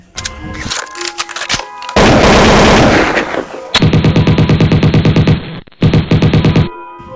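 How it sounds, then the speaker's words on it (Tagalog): Rapid gunfire inside a room, loud bursts of repeated shots in quick rhythmic strings separated by brief pauses. "Sunod-sunod na putok ng baril ang maririnig sa loob ng kwartong yon."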